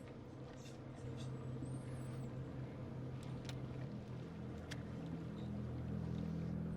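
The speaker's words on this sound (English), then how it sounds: "Hear the engine of their boat." A pirates' boat engine in the game Man of Medan drones low and steady as it approaches, a faint, continuous rumble that swells slightly, with scattered brief clicks above it.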